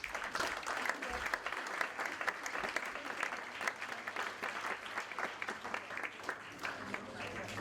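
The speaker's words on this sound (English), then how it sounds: "A round of applause for my second question." Audience applause at an impact investing conference session, a steady patter of many hands clapping in a room, fairly faint and sustained for several seconds.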